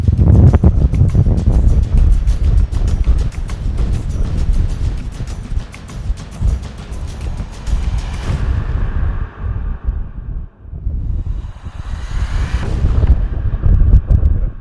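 Strong wind buffets a microphone outdoors during a mule deer hunt in Montana, a loud continuous low rumble with gusts that briefly drop away and surge back over about fifteen seconds, with no speech.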